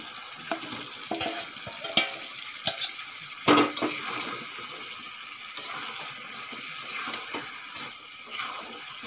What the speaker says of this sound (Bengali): এখন আমি যে মাখিয়ে রাখা মাংসটা দিয়ে দেবো।